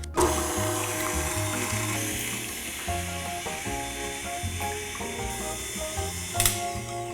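Electric mixer beating wet ingredients for gluten-free, dairy-free s'mores donut batter, a moderate mechanical whir with shifting pitch that runs steadily without talk.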